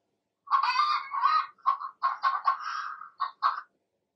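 Hens cluck and squawk in short bursts, a busy run of nasal calls close by, with brief pauses between.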